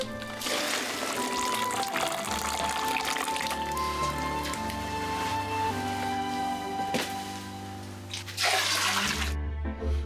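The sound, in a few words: herbal water poured by the scoop into a rubber tub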